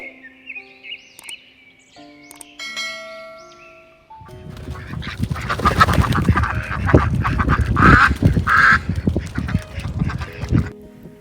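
A flock of ducks quacks loudly and continuously at close range, with overlapping honking calls that follow a quiet opening with scattered tones.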